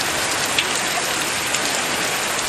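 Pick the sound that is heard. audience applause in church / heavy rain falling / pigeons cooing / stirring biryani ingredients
heavy rain falling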